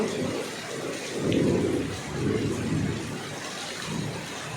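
Steady rain hisses throughout while deep rolls of thunder rumble several times, swelling and fading like a nearby storm.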